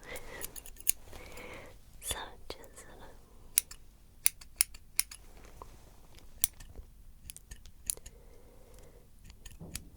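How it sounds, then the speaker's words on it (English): Crisp metallic snips come close to the ear in an irregular series, with a soft whispered voice murmuring briefly in between. "I'll use my other scissors to get those out."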